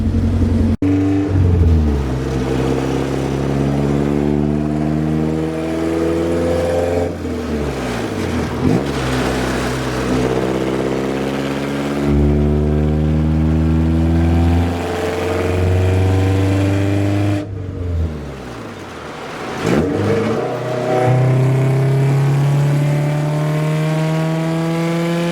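A car engine fitted with a larger exhaust test pipe revs hard and loud again and again, each rise sweeping up in pitch and falling back to a rough idle between bursts, close and alone without talk.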